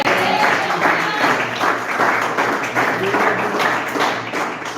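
A church congregation claps in a steady rhythm, dense and loud, with voices mixed in throughout.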